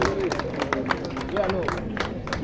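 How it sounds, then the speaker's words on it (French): Crowd applauding at the inauguration of an oil mill in Gbon, Côte d'Ivoire: sustained clapping under a loud murmur of crowd voices and talk. "Il faut encore applaudir très fort"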